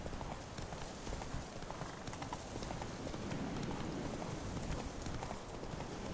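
Roach, the horse in The Witcher 3: Wild Hunt, gallops with steady, rapid clip-clop hoofbeats that continue throughout at a moderate, even level.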